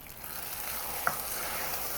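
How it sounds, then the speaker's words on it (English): Vanilla goes into molten peanut brittle caramel and splatters, making a steady, loud hissing sizzle with one brief pop near the middle and no voices. "It's gonna splatter."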